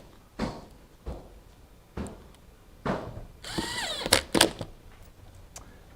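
A power tool bolts a car's under tray in place with short, separate bursts, about five brief zips spaced a second apart, then a longer run of whirring.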